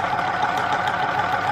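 A sewing machine stitches fabric mask straps, giving off a steady, continuous mechanical whir at an even level with no voices.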